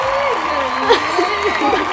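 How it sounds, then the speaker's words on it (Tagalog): Hands clapping for a small child at home, a brief steady patter of applause with voices and cheering mixed in over it. "Galing naman. Palakpak."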